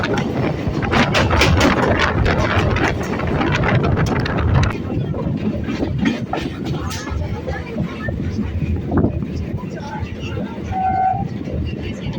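A local train runs into Sonarpur junction with a steady rumbling roar and wind buffeting the microphone, loud at first and easing after a few seconds, with a brief horn-like tone near the end; a voice talks over it.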